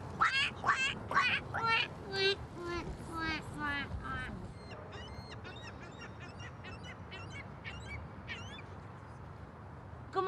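A person's voice imitates a duck, giving a rapid run of loud, nasal quacks up close, then a string of fainter, evenly spaced quacking calls.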